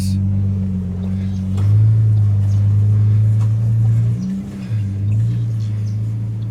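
A 4WD grinds over a rutted off-road stretch of the Border Track, its engine a loud, steady low rumble that swells and dips as the revs change.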